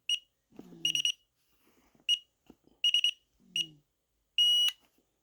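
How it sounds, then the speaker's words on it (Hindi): A fingerprint gate lock gives a series of short, sharp electronic beeps with quiet clicks and handling noises between them, ending in one longer sustained beep. "जब लंबी बीप आ जाए इसका मतलब सक्सेसफुल हो गया"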